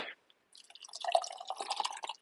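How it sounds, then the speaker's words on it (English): Water pours into a vacuum blender jar with nuts and raisins inside, a close, quiet trickle and splash of liquid filling the container for about two seconds after a brief drip. "let's put some hydrogen water in here, shall we?"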